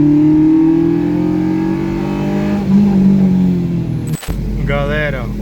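Volkswagen Passat engine pulling uphill at about 1500 RPM behind a truck: a steady, close, droning hum that swells slightly in pitch, with a brief voice near the end.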